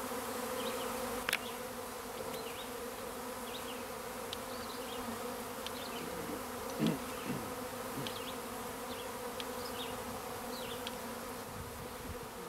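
Honey bees forming a smaller swarm outdoors, a steady continuous buzzing drone of many insects with a few louder passes close by, no talking.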